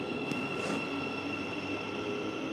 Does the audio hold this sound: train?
yes